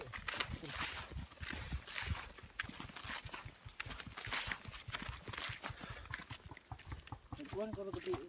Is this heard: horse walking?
yes